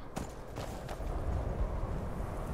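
Horse hooves in Skyrim clip-clop faintly in an uneven rhythm of a few soft strikes over a low, steady rumble of background sound.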